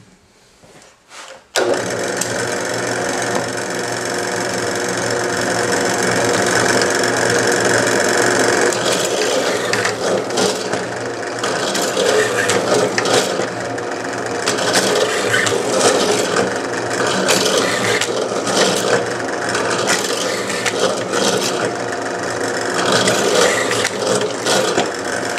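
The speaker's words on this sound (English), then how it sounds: "we're going to go ahead and drill the holes" A power drill bores holes through a drill guide clamped onto a holster, running as a loud continuous mechanical grind with ratcheting texture for most of the stretch after a brief quiet start.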